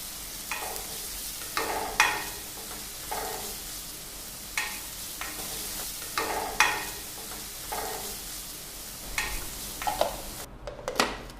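Salted onions sauté in a pan, a continuous sizzle broken by repeated spoon scrapes and stirs roughly every second or two, close and clear, with no talking.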